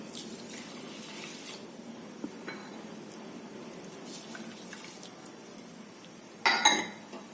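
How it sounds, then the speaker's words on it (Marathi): Water poured from a bowl into a kadhai of sugar for rava ladoo syrup: a short, close splash with a light clink near the end, after several seconds of quiet kitchen room tone. "त्याच वाटीने साखरेच्या निम्म पाणी घालायचं"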